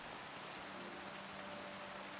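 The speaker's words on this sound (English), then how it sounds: "it feels like rain, sounds like rain" Steady rain in the medieval world of Kingdom Come: Deliverance, a dense, even hiss of falling drops across the whole stretch with no pauses or voices.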